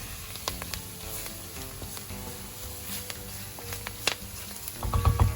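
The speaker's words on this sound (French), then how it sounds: "On laisse cuire un tout petit peu la farine, pas trop longtemps" Flour cooking in a pan for a chicken pot pie, a continuous crackling sizzle with sharp pops and a louder stir or scrape near the end, no talk.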